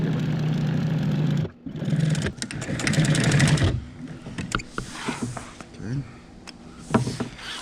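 A sewing machine stitches along a line through material, a steady motorized whir that runs for a few seconds and then gives way to quieter handling noises while a person talks.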